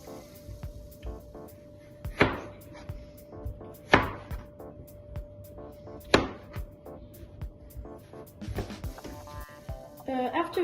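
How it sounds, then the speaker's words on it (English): A knife chops pumpkin into pieces on a board: sharp, sparse thuds with a few louder cuts, close and fairly quiet over a steady background hum, while a person talks. "I cut them into equal pieces and I gathered them in a bowl."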